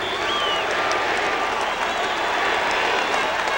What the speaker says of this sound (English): This crowd chanting, three-peat, three-peat, three-peat.